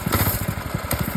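A small minibike engine runs close by with a steady, rapid putter and faint wavering pitch, briefly and with no talk over it.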